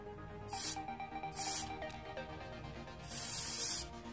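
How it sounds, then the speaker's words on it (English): Three short bursts of aerosol spray hiss onto fidget spinner bearings, each about half a second long, close to the microphone, with a faint whirring between them. "just keep on spraying the bearings."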